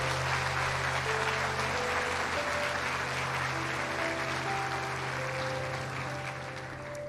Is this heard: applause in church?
yes